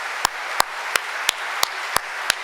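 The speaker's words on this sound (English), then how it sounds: "please give a huge round of applause to all of my Department of Commerce colleagues" Ceremony applause sounds as seven sharp, evenly spaced claps, likely from one nearby person, set over a soft room hum with no talking.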